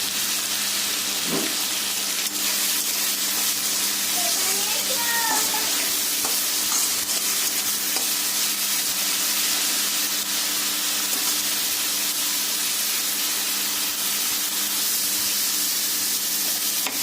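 Carrots with a little salt frying in a pan, a village-style home kitchen dish on the way to fried rice: a steady, close broadband sizzle runs throughout, with brief stirring scrapes near the start and a low hum beneath.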